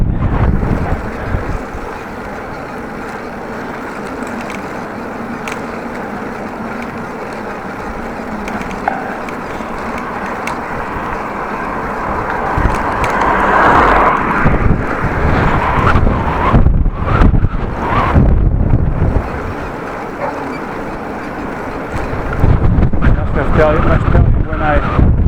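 Very heavy wind buffets a cyclist riding a bike on a muddy route, a constant loud roaring rush with gusts swelling toward the middle and end of the ride.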